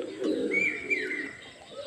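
Pigeons kept as flying birds for hot-weather flights coo in a low, throaty run, with a higher whistling tone over it, steady for under two seconds with no talk.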